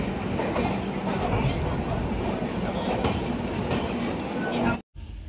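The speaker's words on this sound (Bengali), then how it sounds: "পাটনা জাংশন ছেড়ে এখন আমরা চলে যাচ্ছি" Howrah–New Delhi Duronto Express pulling out of Patna Junction, heard from inside a first-class AC coach as a steady, loud rumble of wheels on rail with faint clickety-clack, ending in a brief dropout.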